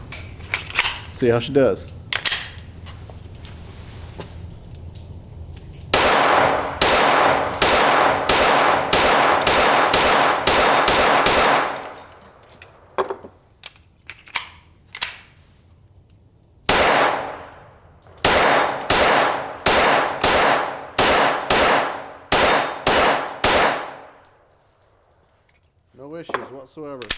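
A Glock 44 .22LR pistol loaded with wax-coated 40-grain bullets fires two rapid strings of loud, sharp shots with a pause between them, and a person briefly talks before the shooting.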